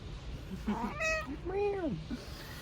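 A cat meows twice up close, short rising-and-falling cries against quiet outdoor background noise.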